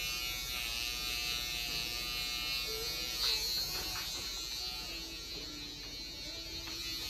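Electric hair clippers buzz steadily and close up while cutting a stacked bob haircut, a continuous motor hum that shifts slightly in pitch as the blade moves through the hair.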